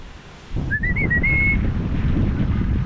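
A person on a farm whistles to call the animals, one short rising then wavering whistle that starts in the first second over steady outdoor wind and rustling noise.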